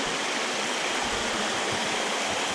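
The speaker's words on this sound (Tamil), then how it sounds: "மலை மேலேருந்து வர தண்ணி அப்படியே ஓடி வருது பாருங்க" Mountain water in the Thirumoorthy Hills rushing downhill in a stream, a loud, continuous broadband rush close by with no voices over it.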